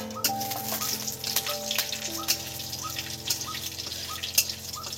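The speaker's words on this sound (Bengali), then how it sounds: "এই শুকনো তেলের মধ্যে লঙ্কা দিয়ে দিলাম" Dried red chillies and black cumin crackle and sizzle in hot oil in a home Bengali kitchen, a close, continuous frying hiss dotted with sharp pops and spits, with no talking.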